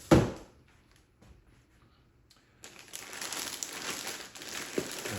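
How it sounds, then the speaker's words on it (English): A plastic bag crinkles as an EVERGOODS Civic Panel Loader 16L backpack is pulled out of it: one sharp rustle at the start, a quiet stretch, then steady, close crinkling that builds and lasts to the end. "Pull it out of the bag."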